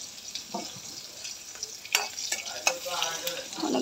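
Onion and garlic frying in hot oil in a home kitchen, a steady soft sizzle with scattered crackles and a few louder stirring scrapes toward the end.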